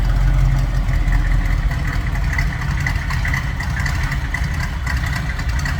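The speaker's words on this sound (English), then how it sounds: "A little rumble coming out of that 350." A 1969 Chevrolet Camaro's 350 V8 engine idles with a deep, steady rumble, loud and close, with no talking.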